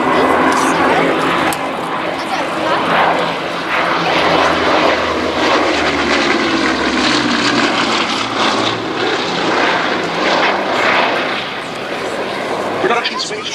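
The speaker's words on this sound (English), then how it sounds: "it's in that configuration of the Blenheim 1F, F for fighter, that we see this aircraft today." A Bristol Blenheim 1F twin-engined fighter flies at the Old Warden airshow, its propeller engines giving a loud, steady drone throughout while someone talks over it.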